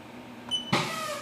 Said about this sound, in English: there's this air brake, an air cylinder that releases the brake on the